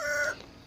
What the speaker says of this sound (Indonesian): Udah suara ayam hutan udah pada bunyi, kokok petok